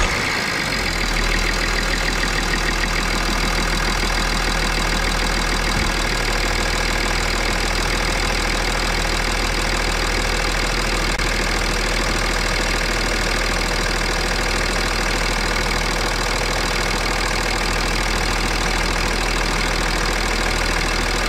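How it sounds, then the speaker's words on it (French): A BMW M57 3.5-litre biturbo diesel engine idling after an oil change, a steady, loud, close mechanical rumble with light diesel knock that runs unbroken for the whole stretch, with no talking. "On va laisser tourner tranquillement au ralenti et voir ce que ça donne."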